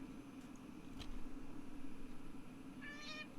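A cat meows in short repeated calls near the end, faint and somewhat distant, set behind a steady low household hum with no one talking.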